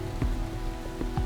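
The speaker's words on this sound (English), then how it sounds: "the rain just gets to be a bit too much" Rain falling in the Australian bush, a dense, continuous patter of drops on surfaces with a few heavier drips standing out close by, and no voices.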